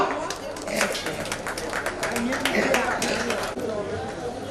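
A crowd at the inauguration of a medical centre in Kerala claps in a dense, continuous burst of applause, with chatter and voices mixed in.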